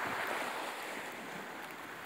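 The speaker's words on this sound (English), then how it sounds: "Here's a giant flood we got." Rushing floodwater after roughly 8 to 10 inches of overnight rain, a steady broadband roar of churning water with wind buffeting the microphone, continuous and fairly loud throughout with no voices.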